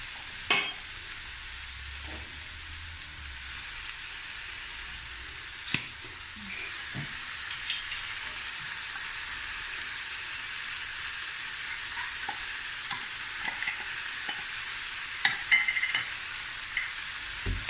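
Tuna goes into a frying pan over covered vegetables, a steady hissing sizzle throughout with sparse spoon taps and scrapes, close and unaccompanied by speech.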